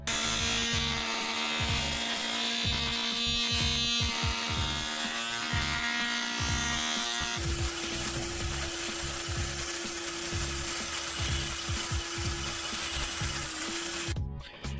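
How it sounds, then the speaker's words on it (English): A power tool grinds steadily at a high pitch, polishing the connecting rod beams of a Predator 212 engine, its tone shifting partway through as it works against metal, with no talking. "now I'm going to use an old racer's trick and polish the rod beams"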